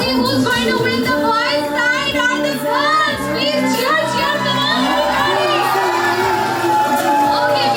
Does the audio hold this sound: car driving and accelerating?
no